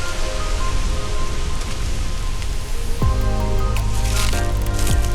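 Garden hose spraying water onto a dog during an outdoor wash at a state park, a steady close hiss of spray splashing on wet fur, with a few squishy thumps and handling noises toward the end and no talk.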